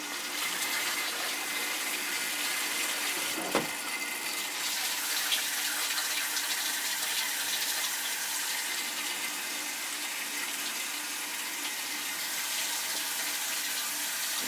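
Water rushes steadily from a hose into a floor pit while zones of a home heating system are purged, a continuous close hiss and gush with one brief thump.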